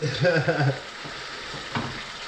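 Vegetables frying in a pan for pineapple chicken, a soft continuous sizzle near at hand, with a brief stir and clatter at the start and another small knock toward the end.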